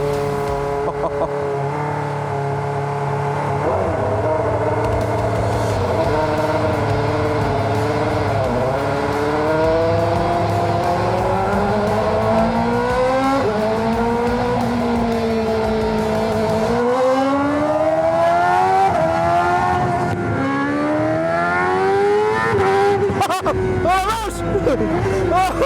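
Formula 1 race car engine revving hard trackside, with rising and falling high-pitched engine harmonics and gear-shift sweeps continuing loudly throughout, while excited voices talk and exclaim over it and tyre noise mixes in.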